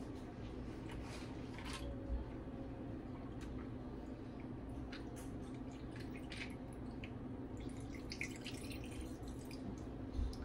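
Soft trickling and dripping as tea is poured over an orange drink, a quiet steady pour with faint splashy drips over a low background hum.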